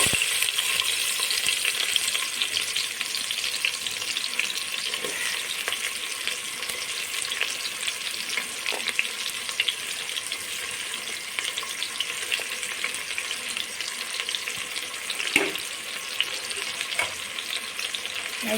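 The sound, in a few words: onions frying in hot oil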